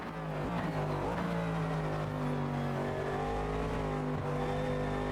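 Race car in Automobilista 2 sim racing game, a steady loud engine tone with shifting pitch as the car brakes, with tire noise and faint squeal underneath, no talking.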